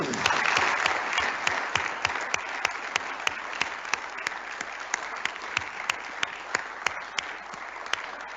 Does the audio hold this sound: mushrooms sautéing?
no